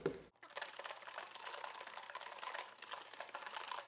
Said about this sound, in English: But I'm gonna shuffle first. More like a shake, shake,